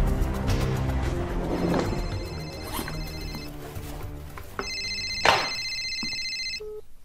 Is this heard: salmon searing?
no